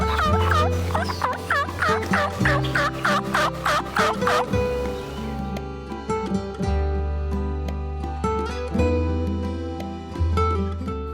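A wild turkey gobbles in a rapid rattling burst, fairly clear against outdoor ambience, followed by further quieter gobbles at intervals.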